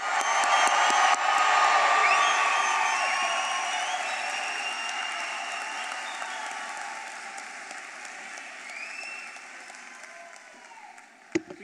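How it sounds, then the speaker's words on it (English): A college commencement crowd cheering and applauding for the graduating class, a loud, dense roar of clapping, whoops and shouts that swells early and then slowly fades as the cheering dies down. "I'd like to hear the loudest cheer you've ever done for the Curry College graduating class of"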